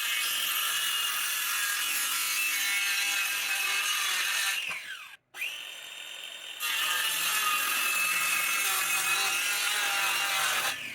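Saw cutting through a wooden board for a solar panel frame, a loud continuous rasping cut that runs for several seconds, stops briefly, then resumes steadily, with no talking.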